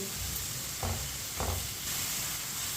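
Chopped tinda (apple gourd) stir-fried in a pan with a spoon, a soft continuous sizzle broken by two brief scraping stirs, close and moderately quiet, no talking.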